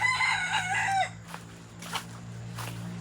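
A rooster crows once, loud and close, with a long drawn-out call, followed by a few fainter clucks and rustles over a steady low hum.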